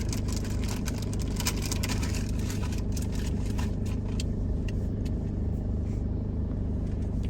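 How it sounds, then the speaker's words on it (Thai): Road traffic idles at a red light just after rain, a steady low engine rumble from nearby cars that stays even throughout, with no talking. "รถติดไฟแดงนะคะเพื่อน"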